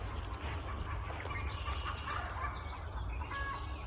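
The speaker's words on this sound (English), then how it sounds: "There's some chickens." Chickens clucking and calling in an open outdoor space at Oregon Ridge Park, a steady mix of bird sounds over a continuous background hum.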